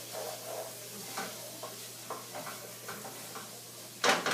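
Carrots sizzle softly in a pan, a low steady frying hiss broken by a few light stirring scrapes and taps, ending with a louder clatter.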